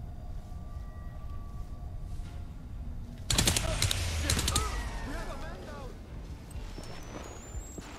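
Suppressed gunfire in the video game Crysis on PS3: a cluster of sharp muffled shots and mechanical clatter bursts out about midway, standing out over a low steady game ambience before fading back to quiet.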